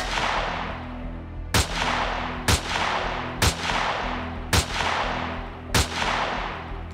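Heavy weapon gunfire aimed at a sentry gun in the space-survival game Empyrion Galactic Survival: five loud, sharp shots spaced roughly a second apart over a constant rumbling ambient drone.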